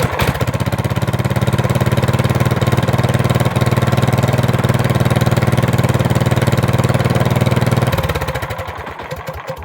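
A 429cc racing lawn mower engine with a new custom exhaust runs loudly at a steady fast idle for several seconds, then cuts out and sputters to a stop near the end.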